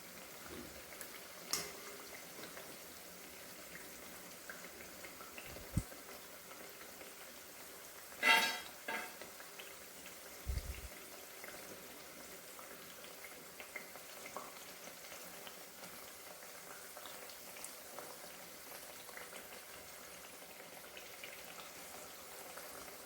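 Potato puris, Surat-style street food, deep-fry in hot oil over a medium gas flame, giving a continuous soft bubbling sizzle with occasional sharper crackles and a few clinks of utensils, with no voices.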